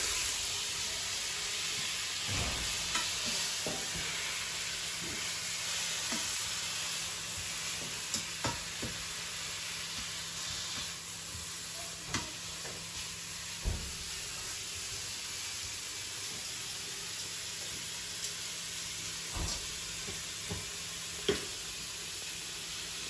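Onions fry in a pan for chilli con carne, giving a loud, steady sizzle and hiss throughout, broken by a few brief scrapes and knocks as they are stirred.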